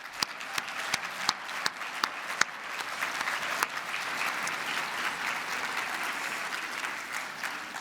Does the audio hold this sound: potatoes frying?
no